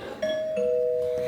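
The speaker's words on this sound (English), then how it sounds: "Somebody rung the doorbell." A doorbell rings indoors with a clear, sustained two-tone chime, a single press whose tones ring loud and close with no talk over them.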